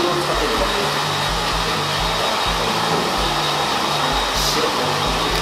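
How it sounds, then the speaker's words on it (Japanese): A hair dryer blows steadily on freshly cut hair in a salon, a loud continuous whoosh with a pulsing low motor hum throughout. "じゃあ一回乾かします。"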